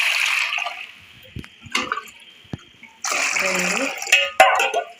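Lotas of water poured into a pot for chicken biryani rice, several separate splashing pours with short pauses between them, close by, with a voice speaking in between.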